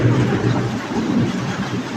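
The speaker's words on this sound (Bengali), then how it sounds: "আকাশ ডাকছে, রিমঝিম বৃষ্টি।" Steady rain with a low, rolling rumble of thunder underneath, continuous and fairly loud throughout, during a lightning storm.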